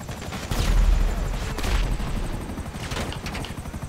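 Sustained bursts of rapid gunfire with deep booms in the video game GTA 5, several volleys in a row over about four seconds, loud and dense like a firefight.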